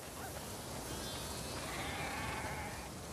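Sheep bleating on a farm in the video game The Last of Us Part II, a few faint, wavering calls drifting over a steady bed of ambient background noise with no speech.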